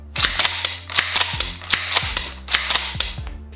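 An APS CAM MK3 CO2 airsoft pump-action shotgun fires fast, sharp cracks, each followed by a metallic pump cycle, in a steady rhythm of about a dozen shots, close and loud with no talk.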